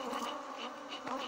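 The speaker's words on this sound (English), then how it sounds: "this is the only sort of reaction I'm getting from them bees today" Honey bees buzzing steadily around wet honey supers being put back on a hive, a close, continuous drone with slight swells and no talk.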